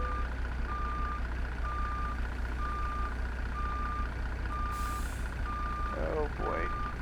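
Reversing beeps from a truck in American Truck Simulator repeat steadily in an even on-off rhythm over a continuous low engine rumble, with a brief hiss and a short chirping noise near the end.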